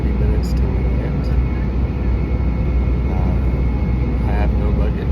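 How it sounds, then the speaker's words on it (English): Steady low cabin drone of a tiny airplane in flight, a broad constant rumble filling the space with faint murmurs of voices beneath it. "boarded this tiny little airplane"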